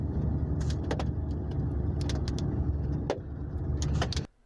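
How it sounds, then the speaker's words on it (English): Volcanic ash from La Soufrière on St. Vincent falling onto a car, heard from inside as a steady dense patter and hiss with sharper ticks and clicks, continuous and fairly loud before cutting off abruptly near the end. "The sound of ash falling on a car in St. Vincent and the Grenadines."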